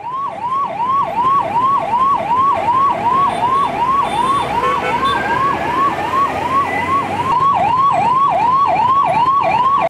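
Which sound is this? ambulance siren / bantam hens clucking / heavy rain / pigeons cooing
ambulance siren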